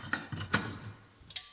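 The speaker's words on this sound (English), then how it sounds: "So the cooker's going to go in there" A camping cooker is set into a lightweight alloy mount, giving a few close, sharp metallic clinks and taps spaced unevenly over a moment, with no talk.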